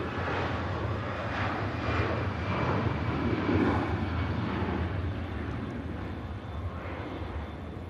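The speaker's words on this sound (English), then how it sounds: "Martin Langren. Wow, on the Tap Air Portugal that's just touched down." A TAP Air Portugal airliner that has just landed at Manchester Airport gives a steady, distant roar of jet engines that swells slightly mid-way and then eases off, with no talk over it.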